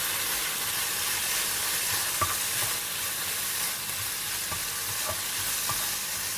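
Chicken cubes, onion and bell pepper fry in a pan with a steady, close sizzle, broken by a few soft stirring knocks.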